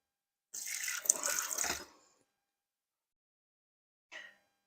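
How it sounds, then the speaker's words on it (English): A spoon rinsed under a running kitchen tap while making Guinness red onion and cheddar soup: a steady water stream for over a second, then a short second burst of water. "Now we'll just rinse the spoon."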